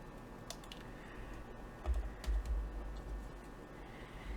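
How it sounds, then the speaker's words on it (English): Scissors snip through a small piece of paper during envelope crafting, giving a few faint, quick clicks and crisp cuts spaced across the moment against a quiet room. "I'm going to trim this out. Just do this with my scissors"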